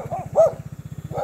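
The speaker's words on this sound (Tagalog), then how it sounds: "mga aso" A few short barks from a dog ring out over the steady, pulsing rumble of a nearby idling motorcycle engine.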